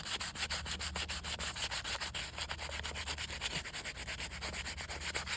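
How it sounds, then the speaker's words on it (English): Fine grit sandpaper rubs over a deer skull in quick, even back-and-forth strokes, a close, continuous rhythmic scratching with no talk. "So I got this fine grit sandpaper here. I'm just going to use that to kind of brush up that skull."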